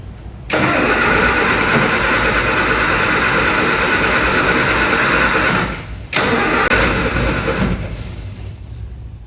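A classic Mini Cooper engine cranks and catches, roaring at a steady loud idle, cuts out briefly, then restarts and runs on before fading slightly.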